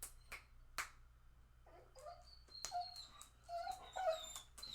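A pet dog indoors whimpers and yips in short, high, wavering whines, several in a row and growing more insistent, with sharp clicks and taps scattered between them and no talk.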